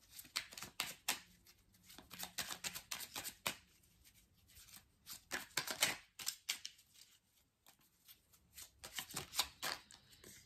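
Oracle cards being shuffled for a tarot reading, with repeated bursts of crisp riffling and flicking close by, broken by short pauses, and no talk.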